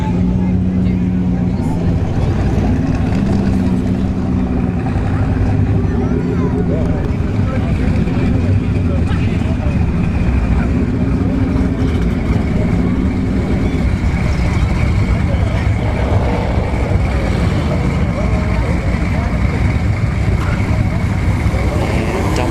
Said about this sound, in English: We have an RSX. Sounds like it's a base model.